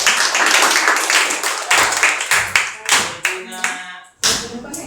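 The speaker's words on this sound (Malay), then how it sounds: "Terima kasih bagi tepukan." An audience in a school classroom breaks into applause: a close, loud burst of many hands clapping that comes in uneven waves, thinning to scattered claps, a brief pause, then one last clap.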